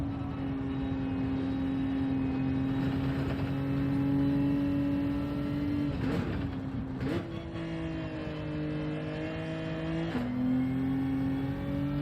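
Race car engine in Gran Turismo 7 at Fuji, a steady loud drone that drops in pitch with quick downshifts around the middle and again near the end, each shift breaking the tone before it settles lower.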